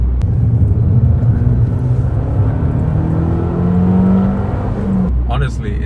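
An Abarth 595 Turismo with a 1.4 T-Jet engine and automatic gearbox accelerates, its steady engine drone loud and continuous from inside the car, pitch slowly climbing as it pulls, before easing off near the end.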